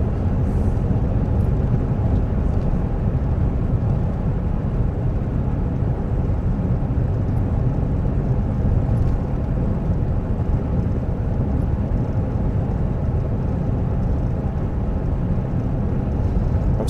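A car cruises at 70 mph on the road between Whitfield and Sandwich, giving a loud, steady low roar of tyre and engine noise mixed with wind rush, unbroken for the whole stretch and with no talking.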